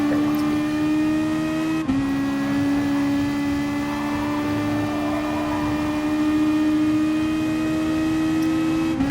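Racing cars roar around the fictional Lake Maggiore track in a racing video game during a slipstream overtake at the hairpin: a steady, loud, droning engine whine with a brief dip in the tone near the two-second mark.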